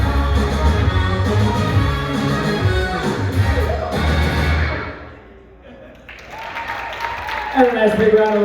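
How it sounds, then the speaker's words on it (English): Dance music at an Arizona ballroom showcase fades out and an audience breaks into applause, a broad clapping swell that builds over the last few seconds and rises in the final moments. "And a nice big round of applause for a great finish for this Candace and John."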